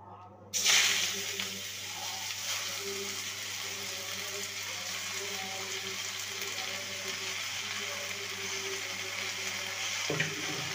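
Washed, chopped spinach dropped into hot mustard oil, a sudden loud hiss bursting in after a quiet start, then a steady crackling sizzle continuing throughout with a brief clatter near the end.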